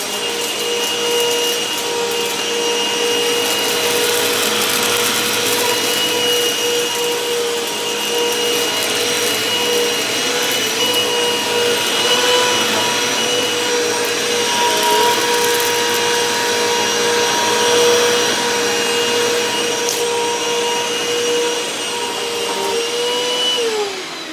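A Hoover WindTunnel self-propelled upright vacuum cleaner picks up shredded paper, a loud, continuous motor roar with rushing airflow and rattling debris, sustained for over twenty seconds with slight shifts in pitch.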